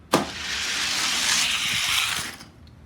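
Hot Wheels die-cast cars, Redline and Gold Hot Ones models, racing down a track: a sharp click at release, then a steady rolling whir of plastic track and wheels for about two seconds before stopping abruptly.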